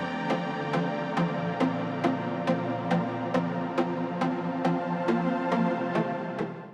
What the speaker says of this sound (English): and below that we have that pad.